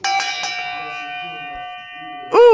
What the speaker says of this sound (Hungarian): Ez micsoda, harangoztak, Terike!